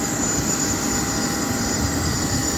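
An aircraft auxiliary power unit runs on the apron, a steady loud turbine whine with a high-pitched tone over a broad rushing roar, unchanging throughout.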